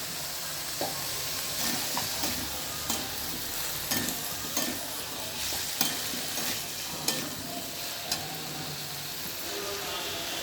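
Ground cumin and coriander frying in a pan with a steady sizzle, broken by repeated spoon taps and scrapes as it is stirred, fairly faint and with no talk.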